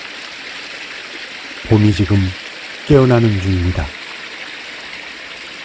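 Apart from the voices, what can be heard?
babbling mountain stream water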